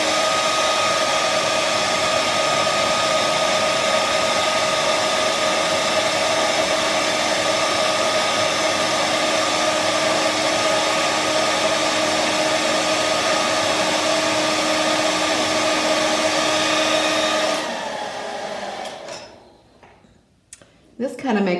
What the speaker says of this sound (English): I'm going to shoot this a little bit more with the blow dryer